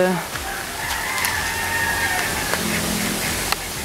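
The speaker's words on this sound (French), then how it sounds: "Il y a des petits poussins, sérieux." Chickens and chicks at a small farm in Canggu, Bali, with a rooster crowing and scattered clucks over a constant outdoor background hiss, the birds moderately distant.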